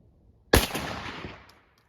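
A 3-inch 12 gauge shotgun fires a .29 caliber buckshot load with TPS and MG-42 wads through a Kicks turkey choke outdoors at a 40-yard range. A single loud, sharp report is followed by a long fading echo.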